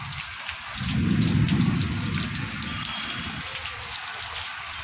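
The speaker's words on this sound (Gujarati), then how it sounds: "આપ જોઈ શકો છો વરસાદ ચાલુ થઈ ગયો છે" Steady rain falls in the rainy season, a continuous broadband wash that swells louder for about two seconds with a low rushing gush, then settles back to a constant patter with no talk.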